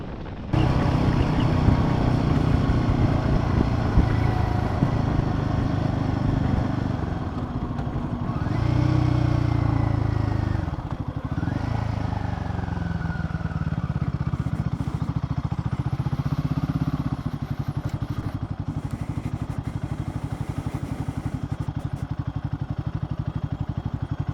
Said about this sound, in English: I'll leave you with the sound of the bike